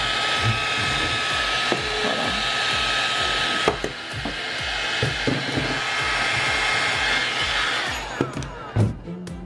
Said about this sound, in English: Can you see the blow dryer?